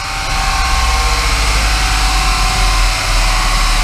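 A turbocharged Ford Transit van engine runs hard at full throttle on a dynamometer, producing a loud, sustained, steady roar with a deep low rumble throughout.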